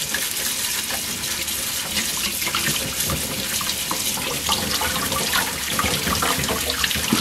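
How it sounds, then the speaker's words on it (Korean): Running tap water pours steadily into a sink while an apple is scrubbed clean under it with a vegetable scrubbing pad, a continuous close splashing rush with no pauses and no voices. "사과는 이렇게 씻어 놓고요"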